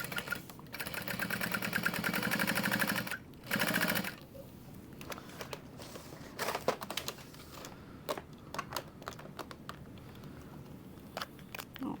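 A sewing machine runs a top stitch along the top edge of a crossbody bag, a steady close mechanical whir for a few seconds, a brief second burst, then scattered clicks and handling taps.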